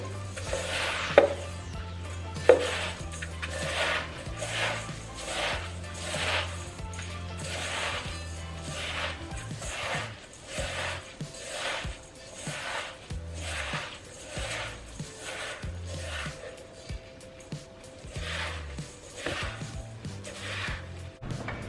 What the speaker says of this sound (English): I'm going to grab the stick of butter and mix it up to create some kind of a dough